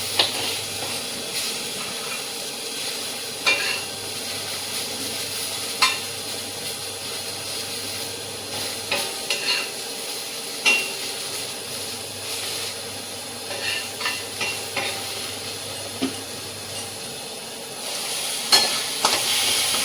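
Okra (bhindi) sizzles steadily as it fries in a home kitchen pan, with scattered scraping clicks from stirring over the constant hiss.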